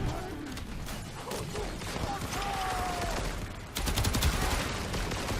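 Rapid gunfire crackles in a firefight against Grineer enemies in the Warframe video game, with bursts of automatic and chain-gun fire, impacts and mechanical clatter that grow louder near the end, while a voice talks over the action.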